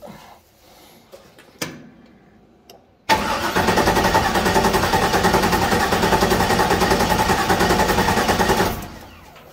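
A car engine cranks over on the starter during a cylinder compression test, with a few clicks first, then a loud, rapid rhythmic chugging lasting several seconds before it stops.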